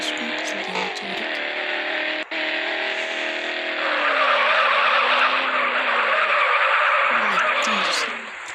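A car drifts in the MadOut2 video game, its tyres skidding and squealing in a long continuous screech over a steady engine drone, loud and close throughout.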